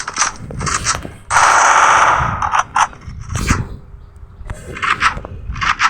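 Rapid automatic gunfire bursts from a shooter video game, with a long sustained loud burst in the middle and shorter bursts around it, plus clanks and impacts from the game.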